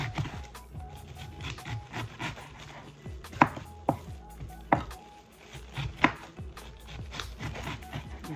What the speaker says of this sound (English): So I get a knife and cut a little piece, small.